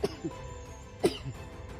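Two short coughs, one near the start and another about a second later, over a faint outdoor background during a survival game session.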